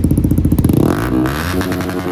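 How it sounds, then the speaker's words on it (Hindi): Yamaha R15 V4 motorcycle with a full system exhaust and the dB killer removed, close up and loud: rapid throbbing exhaust pulses that build into a sustained rasping roar as the engine revs. "अब इसकी आवाज़ बिना डीबी कलर के सुनना"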